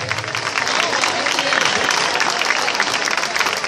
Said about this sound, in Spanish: Ese aplauso para la Escuela del Ballet Municipal de Galdar